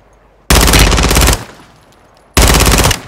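Call of Duty gunfire in two loud, close bursts of rapid machine-gun fire, with a short gap and a fading tail between them.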